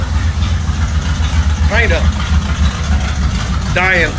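A 1981 Chevy Scottsdale K10 squarebody truck engine idles with a steady low rumble that runs unbroken, while someone talks briefly over it twice.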